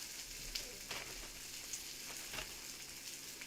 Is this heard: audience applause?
no